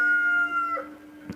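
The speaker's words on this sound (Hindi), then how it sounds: "जो हमारे जो पड़ोसी का जो मुर्गा है वो चिल्ला रहा है" A neighbour's rooster crows in a single harmonic call lasting about three-quarters of a second, moderately loud against a quiet indoor background, followed by a faint brief knock.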